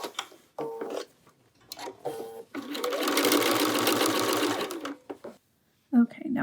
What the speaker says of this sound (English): Pivot again. And continue stitching.